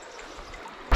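River water runs in a soft, steady wash at a trout fishing spot, close and continuous, ending with a sudden loud bump.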